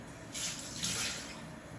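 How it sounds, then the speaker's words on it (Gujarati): Water with chopped Kashmiri chilli boils in a pan on the stove, giving a faint, airy bubbling hiss that swells briefly and settles. "પાણી ઉકળી બી ગયું છે"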